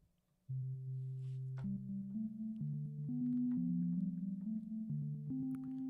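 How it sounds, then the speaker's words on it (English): A sustained electronic synth pad made in Reaktor steps through a sequence of held tones, with a soft echoing tail and a gentle LFO wavering modulation underneath, steady and fairly loud throughout. "Gives us more of a echoey sound with the LFO working in the background"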